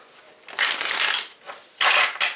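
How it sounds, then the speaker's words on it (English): Tarot cards being shuffled by hand during a reading, a dry papery riffling in two loud bursts with a quieter stretch between, close up with no talking. "Let me give this one more shuffle."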